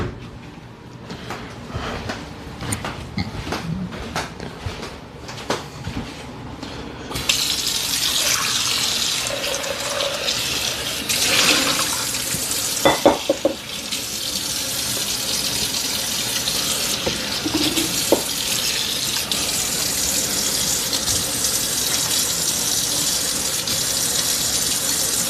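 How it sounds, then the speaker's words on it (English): A bowl rinsed under a kitchen tap, a few light clatters at first, then water gushing steadily into the sink for most of the stretch, close and continuous with no talk. "I'm going to go give this bowl a rinse"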